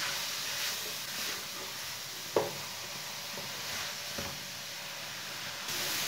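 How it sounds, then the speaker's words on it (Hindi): Grated carrots for halwa roast over medium heat in a pan, giving a soft, even sizzle with faint scraping as a spoon stirs them and one sharp clink of the spoon against the pan. "अब इसे ऐसे ही चम्मच चलाते हुए 4-5 मिनट तक भून लेंगे।"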